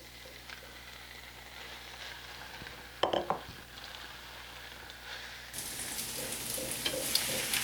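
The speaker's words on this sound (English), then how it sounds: "While you're sauteing this, you're going to want to stir it occasionally to keep it moving" Diced pheasant and onions hit a hot pan with a brief clatter, then a steady sizzle builds and grows louder and brighter toward the end, heard alone without talking.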